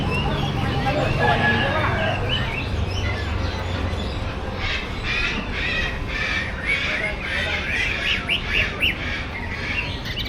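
A dense chorus of birds squawks and chirps continuously at a wild pet market, loud and close, with harsh repeated calls layered over one another and voices mixed in underneath.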